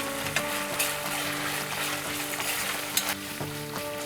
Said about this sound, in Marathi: ही आल्या लसणाची पेस्ट ही कांद्यासोबत छान परतून घेऊया